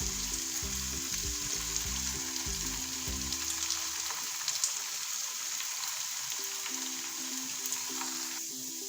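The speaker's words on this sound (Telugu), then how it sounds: "ఇప్పుడు దీన్ని డీప్ ఫ్రై చేసుకుందాము." Mixed vegetable kofta balls deep frying in hot oil, a steady crackling, rain-like sizzle heard close and even throughout, with a low background hum that drops out partway.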